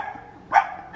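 A single short dog bark rings out fairly close and loud after a quiet stretch, with a faint start of another sound at the very end.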